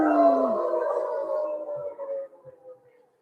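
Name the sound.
people imitating hungry wolves howling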